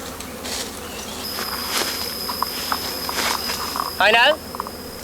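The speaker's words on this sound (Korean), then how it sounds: "연기에 놀란 벌들이 맹렬한 날갯짓으로 적을 향한 공격과 방어 태세를 갖추기 시작했다" Giant honeybees, alarmed by smoke, buzz with furious wingbeats close by in a steady insect hum, while a voice narrates over them and a brief sharper burst rises near the end.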